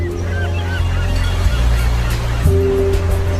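Seagulls cry and honk over a lonely stretch of California beach near Morro Bay, loud repeated calls above a steady low rumble of surf and wind.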